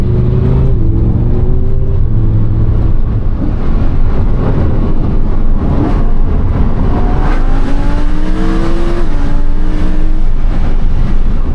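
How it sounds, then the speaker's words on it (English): Lamborghini Huracan V10 engine revving hard while driving, loud and close from inside the cabin, with rising and falling gear sweeps as it accelerates repeatedly through the gears. "Man, that engine is unreal."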